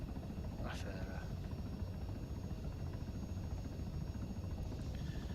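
Simulated aircraft engine at full throttle during takeoff in a flight simulator, a steady droning hum that runs loud and unbroken throughout, with a brief chirp near the start.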